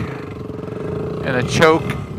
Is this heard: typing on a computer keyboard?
no